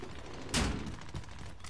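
Gunfire in the video game Warzone, a brief burst of shots under steady background game noise, fairly faint.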